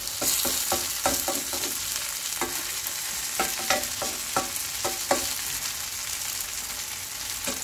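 A large mung bean and bracken fern pancake with red chili fries in a pan, giving a steady close sizzle with repeated crackling pops throughout.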